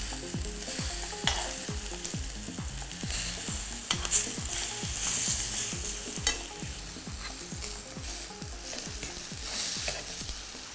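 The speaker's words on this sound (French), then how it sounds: "mes petites frites de farine de pois chiche. Je vais les laisser dorer pendant environ 2 minutes sur chaque face." Chickpea flour panisses, a Niçoise dish, fry steadily in a pan with a continuous close sizzle and crackle, punctuated by repeated scraping and stirring strokes throughout.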